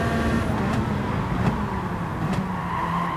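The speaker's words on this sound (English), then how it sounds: "And now here hard braking after such a long straight." A race car in Gran Turismo 7 drones at steady high volume with a constant engine hum and road roar, a few faint clicks marking gear or braking changes, with no voices.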